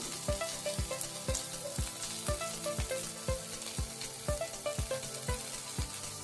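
Chopped capsicum frying in a pan for egg noodles, a steady close sizzle with regular clinks of a spatula against the pan every half second or so.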